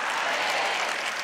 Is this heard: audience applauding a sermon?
yes